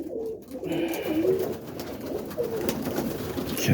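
Racing pigeons coo in a loft, several soft rolling coos from nearby birds spread across a few seconds amid light rustling and background loft noise.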